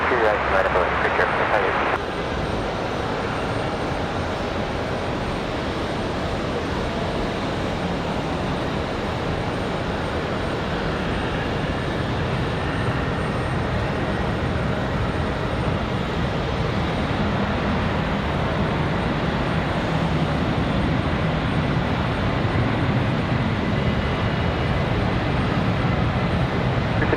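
An American Airlines A321 airliner at Raleigh-Durham airport gives a steady, loud engine roar that holds for the whole stretch under windy outdoor conditions.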